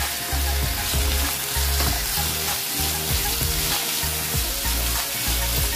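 Onion sautés in a pan for chicken chilly, giving a loud, constant sizzle with rhythmic scraping strokes of a spatula repeating about every half second.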